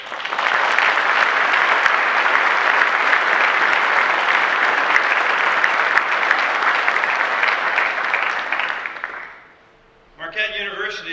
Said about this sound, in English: Please join me in a round of applause for all of our veterans in attendance today